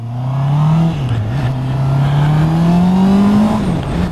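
A Honda CB650R motorcycle engine revs steadily and climbs in pitch as it pulls away, loud and close with a smooth, rising drone.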